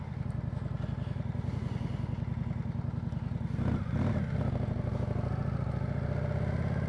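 An Indian Scout Sixty motorcycle runs close by with a loud, steady, pulsing rumble, and the engine swells briefly when it is revved partway through.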